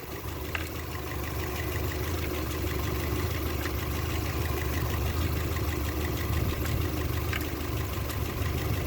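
A Renault Clio engine with no oil runs with a handful of nuts and bolts dropped in, giving a steady loud mechanical drone with faint occasional ticks and knocks over the running noise.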